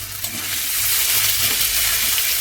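Ginger fries in a pan with a steady, close hiss of hot oil that swells slightly and holds constant for a couple of seconds.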